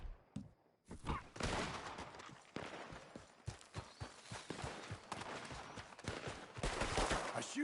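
Gunfire from Red Dead Redemption 2, a run of sharp irregular shots and bursts crackling over a busy outdoor backdrop with hoofbeat-like thuds, fairly loud and continuous for several seconds.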